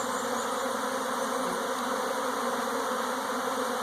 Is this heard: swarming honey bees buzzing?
yes